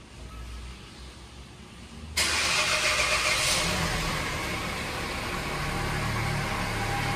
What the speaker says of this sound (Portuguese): Ele dá uns pequenos estourozinhos quando liga de manhã.